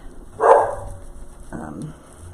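A single loud dog bark rings out close by, followed a second later by a softer second bark, with quiet room noise between.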